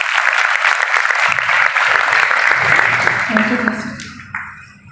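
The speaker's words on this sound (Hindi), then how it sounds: "स्वागत करेंगे जोरदार ताली से" A crowd at a youth organisation event gives loud, sustained applause to welcome a guest, then it fades toward the end.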